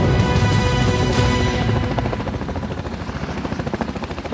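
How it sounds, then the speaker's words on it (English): Black Hawk helicopters hovering over a hot landing zone, a loud, rhythmic rotor chop that starts as a heavy roar and settles into steady pulsing blade beats. "this landing zone, or LZ, is still too hot for the Black Hawks to set down in"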